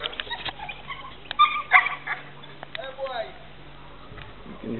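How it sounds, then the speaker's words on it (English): A small dog whimpers and yips in short, high bursts close by, while people talk softly around it. "There's the dog."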